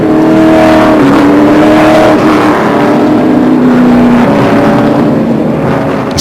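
Speedcar Series race cars in the UAE circle the circuit on a formation lap behind a safety car, a steady, loud engine drone with shifting revs and overlapping passing tones, no talking.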